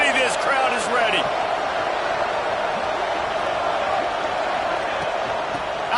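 A football stadium crowd roars continuously before a big third down, a broad, steady wall of cheering with a few whoops and a commentator's voice over it.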